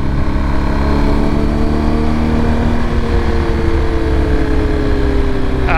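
A 2023 BMW R 1250 GS Adventure motorcycle taking a turn in third gear, its engine droning loudly and steadily close to the rider, with the pitch easing slightly toward the end and no voices.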